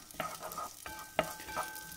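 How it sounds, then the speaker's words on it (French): Shallots frying in olive oil in a saucepan, heard as a steady close sizzle with a few short stirring scrapes and clinks over about two seconds. "j'ai pris une casserole, j'ai pris de l'huile d'olive. Et on est parti pour faire revenir nos échalotes"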